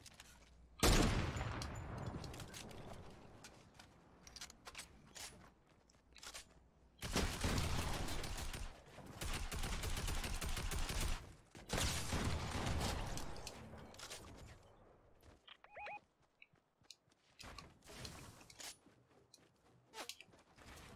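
Fortnite gunfire and sniper shots come as a sharp opening crack followed by two longer loud stretches of rapid firing, then sparse scattered shots fading toward the end, with no talking.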